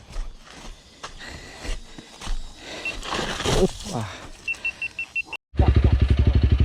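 A Honda CRF300L dirt bike on a hill trail revs and pulls off in first gear, engine rising through ragged revs with outdoor noise, then a loud steady pulsing drone near the end; people talk throughout.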